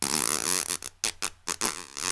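A voice imitates a power drill with a buzzing whir followed by short bursts, close and fairly loud over about two seconds.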